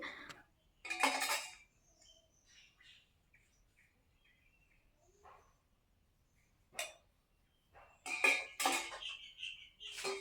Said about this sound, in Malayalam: ഇനിയിപ്പോൾ എനിക്ക് കുറച്ച് പാത്രങ്ങൾ കഴുകാനുണ്ട്